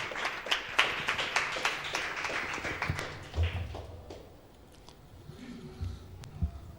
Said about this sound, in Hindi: मैं चाहूँगा हम सब भाई जोरदार तालियों के साथ स्वागत करेंगे